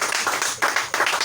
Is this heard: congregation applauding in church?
yes